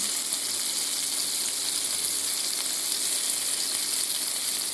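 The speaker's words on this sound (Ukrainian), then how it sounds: "Отак підсмажили гарнесенько шматочки ляща" Bream pieces sizzle and spit steadily in a hot frying pan, a close, continuous crackle of oil with no voices.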